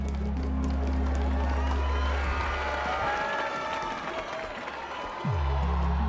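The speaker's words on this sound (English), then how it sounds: "Where's that clapping?" Applause in the video game Honkai: Star Rail: a dense, steady clapping wash from a crowd over low droning game music, continuing throughout.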